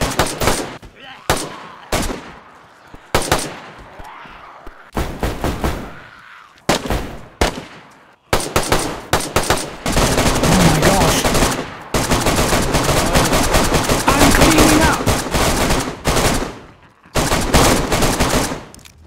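Gunfire in the DayZ video game on a prison island, loud bursts of rapid automatic fire and single shots, sharp and close, coming in clusters with short gaps and then a long sustained volley, with occasional voices between shots.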